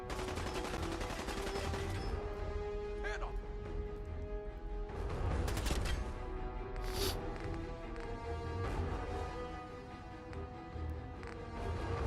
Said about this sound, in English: your Tommy gun hurts